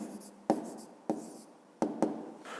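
Close, quiet scratching of a pen writing an answer by hand on paper for a 5th-grade math exercise, with four distinct taps as the pen touches down between strokes and no talking.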